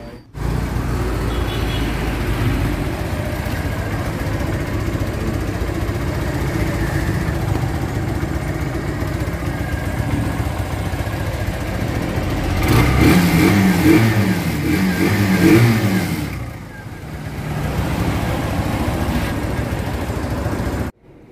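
A vehicle engine runs steadily after a part replacement, its drone holding even for most of the stretch. Midway it briefly rises as if revved, then dips and settles back to the same running hum.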